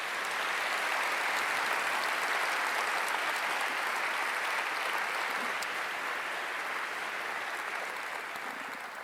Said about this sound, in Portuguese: dê mais um aplauso bem forte ao Senhor